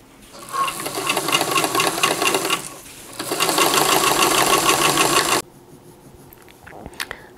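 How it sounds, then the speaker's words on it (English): Sewing machine running a long basting stitch along a seam on flared pants: two loud, fast rattling runs of a couple of seconds each with a brief pause between, then it stops and faint handling sounds follow. "I'm going to machine baste it just since I'm here."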